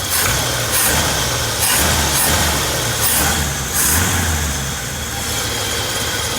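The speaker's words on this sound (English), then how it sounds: "Like, that's a strong idle." A rough, rumbling 1965 Chevy C10 pickup engine idles steadily nearby, with a low uneven throb and small surges in loudness, running alone without voices.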